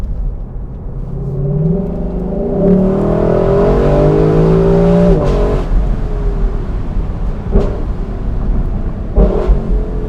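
A 2021 Lexus LC 500 Convertible's V8 revs and pulls hard through rising gears on a night drive in an aggressive sport mode, loud and close, with sharp blips between shifts.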